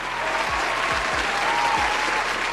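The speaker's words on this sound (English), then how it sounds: "Give her a round of applause." A crowd breaks into a round of applause, a loud, dense sustained clatter of many hands with a few deep thumps underneath, continuing steadily without speech.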